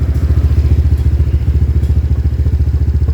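A Honda Beat Deluxe motorcycle with an aftermarket exhaust idles with a loud, lumpy note, a fast steady burble of low pulses close by, with no one speaking.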